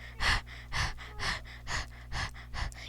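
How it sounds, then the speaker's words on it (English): Deep, heavy breathing close to the mic, about six slow, even inhale-exhale bursts in a steady rhythm over a low background hum, with no speech. "Deep breathing."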